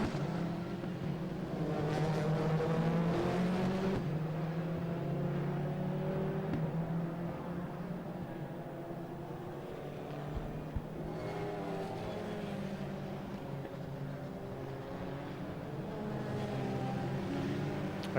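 Racing cars lap the Oulton Park circuit during a BARC race meeting, engines droning and revving steadily from a moderate distance throughout, with rising and falling tones as cars pass, and no voices.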